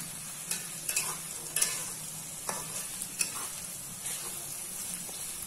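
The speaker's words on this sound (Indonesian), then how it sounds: "Ini kita goreng sampai matang dulu kawan ini." Shallots and garlic fry in a pan for a Rica-Rica duck dish, giving a steady close sizzle broken by intermittent scraping stirs.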